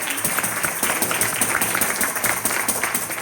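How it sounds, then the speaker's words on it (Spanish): A congregation at a church conference claps together in a steady, lively round of applause, close and continuous throughout. "Un aplauso a la hermanita"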